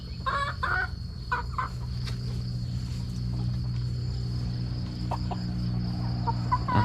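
Several chickens cluck briefly near the start while feeding, then fall mostly quiet under a steady low drone and a thin high whine, with a few faint calls later.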